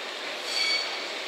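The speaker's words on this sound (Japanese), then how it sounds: "A train will soon be passing through track 4." A JR Shikoku train rushes through a station on track 4 with a steady broadband roar and a thin metallic squeal of wheels briefly rising over it, close and loud.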